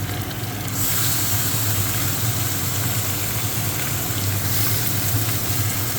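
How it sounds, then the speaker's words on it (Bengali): Green chili paste frying in a pan gives off a constant, close, fairly loud sizzling hiss that holds steady for several seconds with no voices over it. "কাঁচা লঙ্কাটা হালকা ভেজে নেব।"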